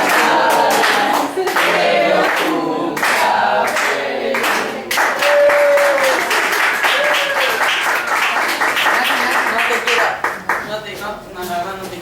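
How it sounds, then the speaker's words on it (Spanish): An audience applauds and cheers at a political gathering for a union member, with sustained clapping and whoops that swell loudly and hold, then thin out toward the end. "usted se merece un gran aplauso de nuevo"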